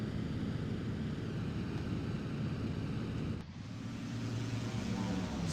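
AI-controlled planes flying in a video game air combat battle, a continuous droning engine roar that dips briefly midway, then resumes.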